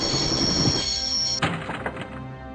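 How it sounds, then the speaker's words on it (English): Train running in the Broken Sword game: a steady rumbling roll with a high metallic whine, then a sudden thunk as the tone drops, followed by clattering rolling noise. "Wanted to stop the train, and now was my chance."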